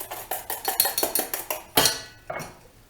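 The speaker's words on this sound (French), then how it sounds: "on mélange les jaunes et le sucre" Egg yolks and sugar are mixed by hand in a bowl, a whisk or spoon striking the sides in quick rhythmic clinks that slow into a few final scrapes, close and clear.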